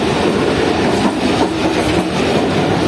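KCR passenger train running on tracks near Karachi, heard from inside the coach, with a dense steady rumble and rattling rhythmic clatter of wheels throughout.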